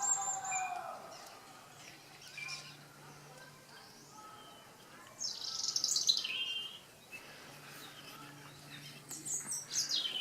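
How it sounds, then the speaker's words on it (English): Birds sing and chirp in a garden in late winter with snowdrops, light tweets scattered through the clip and a louder burst of calls midway, fairly distant over a quiet outdoor background. "And this is my garden. Just listen to the birds."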